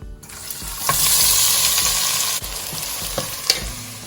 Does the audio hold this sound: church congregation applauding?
no